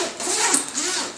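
A zipper on a high-quality backpack is pulled open in one continuous, close, bright rasping stroke with slight ripples as the teeth separate.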